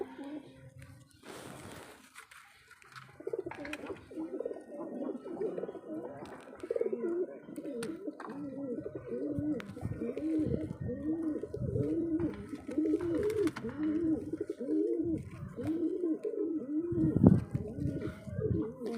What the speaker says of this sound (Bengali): তো এখন আমি আমার পায়রাগুলোকে ছাড়বো